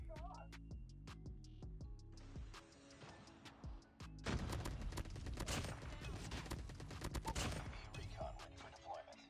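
Rapid automatic fire from an ASM10 rifle in Call of Duty Mobile, with dense loud bursts of shots mixing with game effects and an occasional voice.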